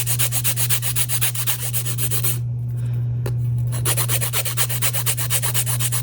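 Coarse nail file rasping back and forth across a solid resin elephant ornament, a steady rhythmic scraping that pauses briefly midway, close up and alone over a low constant hum.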